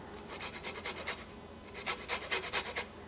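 A lemon is rubbed against a grater to make zest for a green bean casserole, producing short, quick, close rasping strokes in two bursts with a brief pause between.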